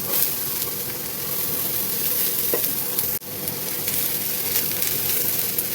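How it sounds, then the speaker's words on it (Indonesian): Onion and ginger stir-frying in oil in a wok, a steady close sizzle and hiss broken by a brief scrape of stirring near the middle, with no voices. "Kemudian aku tumis itu bawang bombay sama jahe."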